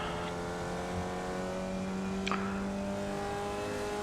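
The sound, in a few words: Formula Vee race car engine accelerating, iRacing video game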